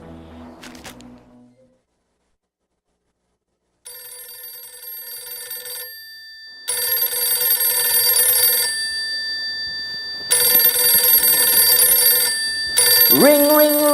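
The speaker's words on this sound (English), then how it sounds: "Ring, ring, ring, who calling my phone?" Telephone ringing in bursts of electronic tones, a brief sweeping electronic tone at the end, each burst loud and alone with no talk.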